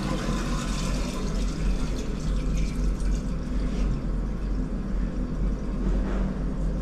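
Water rushes and gurgles steadily through a blocked drain as it is flushed to clear paper, a continuous loud turbulent wash with low rumble throughout.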